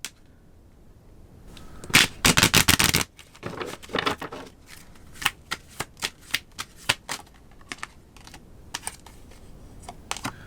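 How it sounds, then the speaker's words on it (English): Oracle cards being shuffled: a dense, crackling riffle of the deck, then a run of separate soft slaps and taps as cards are pulled and laid down, close by in a quiet room with no talking. "I'm going to pull some oracle cards for you guys"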